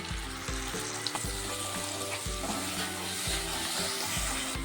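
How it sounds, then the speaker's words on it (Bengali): Spice paste with Kashmiri chilli powder and a little water sizzles in a pan for kofta curry, a close, steady frying hiss broken by regular scraping strokes of a spatula. "মশলাটা সামান্য জল দিয়ে কষিয়ে নেব"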